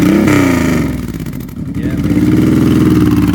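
A used 2002 Honda VTX1800C big-bore V-twin cruiser motorcycle engine revs loudly up close, with a deep throbbing idle that dips briefly and climbs again.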